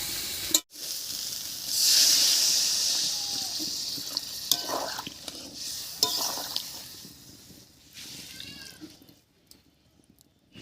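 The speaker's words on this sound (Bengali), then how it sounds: "মশলার সঙ্গে আলু ফুলকপি সয়াবিন সব খুব ভালো করে কষে গেছে এবারে জল দেব" Water poured into a pan of frying cauliflower, potato and soybean curry sets off a loud, rushing hiss that swells and then fades into softer sizzling and a few stirring scrapes, with no talking.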